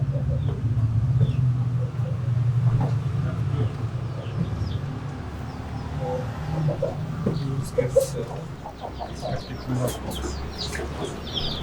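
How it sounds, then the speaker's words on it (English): Chickens and small chicks cluck and peep softly around a farmyard in Aizawl, India, while a person talks over a steady low hum, with occasional sharper bird calls later. "Here are the chicks."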